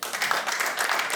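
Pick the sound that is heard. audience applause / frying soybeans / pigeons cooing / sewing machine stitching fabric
audience applause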